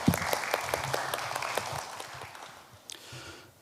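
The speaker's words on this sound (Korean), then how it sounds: "박수로 환영해 주시기 바랍니다" Audience applause welcoming a presenter at an academic conference session, a burst of clapping that is loudest at the start and then thins and fades over a few seconds, with no talking over it.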